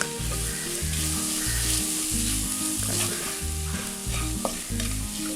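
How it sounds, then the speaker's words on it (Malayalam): Chili powder, pepper powder and garam masala sautéed with lemon juice in a pan as a base for Kochi-style meat rice. A steady close sizzle of frying is heard, with stirring underneath and a low rhythmic hum running throughout. "ഇനി അതൊന്ന് വഴറ്റിയെടുക്കാം"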